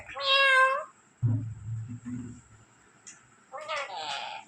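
A parrot imitates a cat's meow twice, with a person speaking briefly in between.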